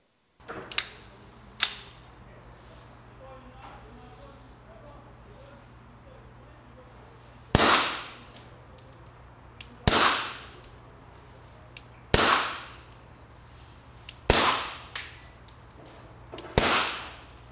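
Two quiet pops, then after a pause five more muffled shots at roughly even intervals from a suppressed Beretta 71 .22 long rifle pistol, each a short sharp crack with a quick decay, outdoors.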